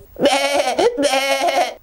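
Two loud, close sheep bleats follow one another, each a long, wavering nasal cry lasting most of a second, with no talk.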